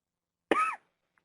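A single short, sharp cough from one person, close and isolated, followed by a faint tiny click.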